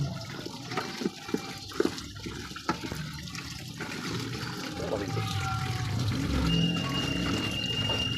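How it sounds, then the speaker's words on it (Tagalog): Tangigi fish being rinsed in water before cooking, a continuous close wash of running and splashing water with a few knocks and clatters early on, then a steadier rush of flow, no voices. "Hugasan muna natin."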